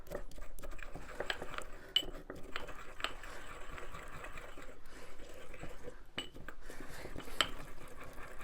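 Utensil stirring saffron into apple fritter batter in a bowl, with close, faint clinks and soft scraping against the bowl in irregular bursts.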